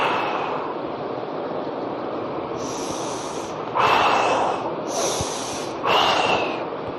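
Deep breaths during an arm-raising breathing exercise, two or three slow, loud, airy inhales and exhales close to the microphone, with no talk.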